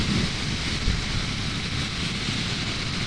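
Steady, loud wind roar buffets the rider on a 2022 Harley-Davidson Sportster S cruising at 80 mph on the highway, a constant broadband rush with no breaks and no talking.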